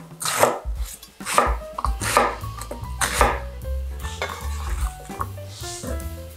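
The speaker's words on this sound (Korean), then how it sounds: "양파 반 개 같이 썰어 넣어주세요" Half an onion being sliced with a knife on a cutting board while making water kimchi, a rapid run of close, crisp chopping strokes against the board with low clunks between them, without talk.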